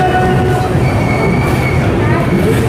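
An Amrit Bharat Express passenger train with LHB coaches and push-pull locomotives runs through a brake test, heard from on board as a loud, continuous rumble with metallic wheel squeal and faint rail clatter.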